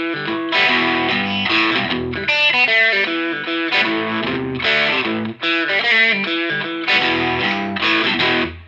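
A blues lick mixed with chords on a distorted electric guitar, played as a loud, continuous run of bent single notes and crunchy chord stabs with brief pauses between phrases.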